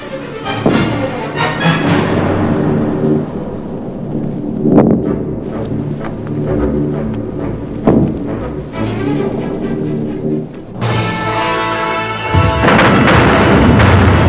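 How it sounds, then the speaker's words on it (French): Soviet artillery counter-barrage from 600 guns and mortars at the Battle of Kursk: loud, repeated booming blasts over continuous rumble, with irregular heavy thuds throughout and a denser roaring stretch near the end. "Vatoutine déclenche avec 600 canons et mortiers une contre-préparation d'artillerie qui va durer plusieurs heures."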